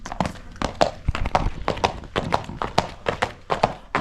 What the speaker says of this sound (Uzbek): Mana katta otlar ekan. Mana otlardan bir top.